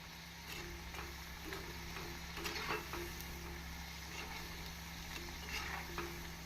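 Potato bondas deep-frying in oil until golden brown, giving a steady, faint sizzle with soft crackling bursts over a constant low background hum.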